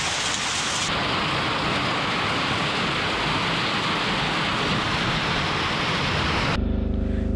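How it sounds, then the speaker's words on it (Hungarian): Hail pelts down on a mountain bike rider high in the Transylvanian mountains, a loud, dense, unbroken hiss of pattering ice that fills the whole stretch before cutting off abruptly near the end. "és megjött a jégeső megint."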